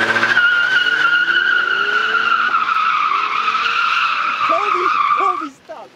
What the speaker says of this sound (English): he's about to pull up his car and we already know that he's gonna drift.